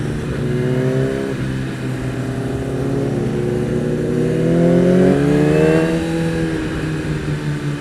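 A Kawasaki ZX10R engine pulls through the lower rev range, its loud, close tone climbing and dipping in pitch as the bike accelerates, with wind rush underneath and no talking.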